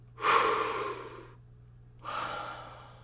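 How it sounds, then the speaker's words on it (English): Two deep breaths drawn in through rounded lips, the first longer and louder, then a second softer inhale after a pause, breathy airy rushes alone with a low steady hum beneath. "You put your hand in front of your mouth and you'll breathe in a who shape"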